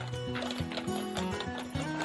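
Shire horses, working dray horses for a Devizes brewery in Wiltshire, clip-clopping steadily on a hard road, hooves close and even in rhythm, with a whinny-like tone rising in the background.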